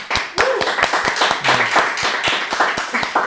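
Clapping from a welcoming audience greeting a guest businesswoman onto a talk show set, a fairly loud run of steady claps with a few sharper individual hand strikes.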